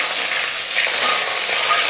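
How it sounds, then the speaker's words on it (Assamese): Potatoes fry in a pan with a steady, bright crackling sizzle, close and continuous, no talking. "এতিয়া মই প্ৰথমতে আলুখিনি ভাজি ল'ম অলপ"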